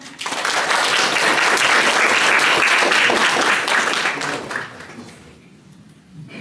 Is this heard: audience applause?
yes